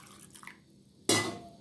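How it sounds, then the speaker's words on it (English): Boiled water poured into blended amaranthus stem and vegetable soup while straining, a sudden close splashing gush that starts abruptly after a quiet moment and continues steadily. "Add some water, the same boiled water which is ready"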